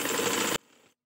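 A sewing machine stitches a trouser seam in a short, steady whirring burst that cuts off abruptly after about half a second, leaving a faint tail.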